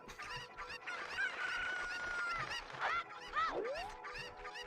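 Chickens cluck and squawk busily in Ocarina of Time Randomizer, with choppy clucks and a few drawn-out, swooping cries layered over each other, fairly loud and with no talking.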